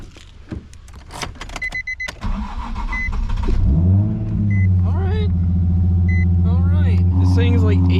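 A Nissan 350Z cranks with a short whir of the starter, then catches and settles into a steady, smooth low idle that rumbles on close by, with a few clicks and faint chimes early on.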